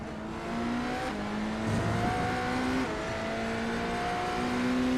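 Hypercar racing cars, the number 12 BMW and a Ferrari, race at Le Mans in a sim racing game, their engines droning and revving with steady, shifting tones as they run close together, loud and continuous with no talk.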